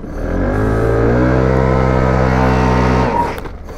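A Daytona ADV scooter prototype holds its engine at high revs to warm the rear tire, a loud steady droning buzz lasting about three seconds before dropping off.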